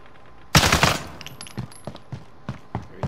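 Video game gunfire opens with a loud rapid burst, then continues as a string of quieter, evenly spaced single shots.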